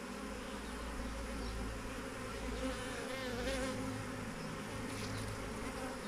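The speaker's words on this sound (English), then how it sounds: "That one there is a drone, a male bee." A honeybee swarm hums steadily in springtime, a low continuous drone of many bees including male drones, fairly faint and close with no voices.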